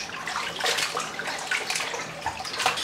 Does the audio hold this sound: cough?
no